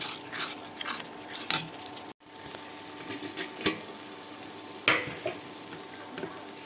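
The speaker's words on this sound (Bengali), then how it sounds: "মশলাটাকে কষাবো যতক্ষণ পর্যন্ত না ভালো করে ভাজা হয়েছে মশলাটাকে ততক্ষণ আমি নাড়তেই থাকবো।" Spice paste frying in a pan with a little water, stirred steadily by a spoon, a low sizzle broken by scraping strokes and a few sharp clinks of utensil on metal, close and fairly quiet.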